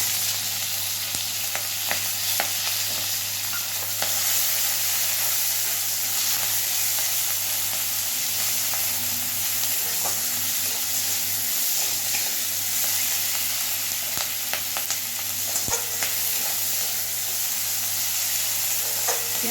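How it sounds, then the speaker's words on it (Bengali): Chopped onion and slit green chillies sizzle steadily in hot oil with panch phoron for a light Bengali fish curry, a continuous close frying hiss with occasional stirring clicks and no talking. "এইবারে দিচ্ছি পেঁয়াজ কুচি আর কাঁচা লঙ্কা চেরা।"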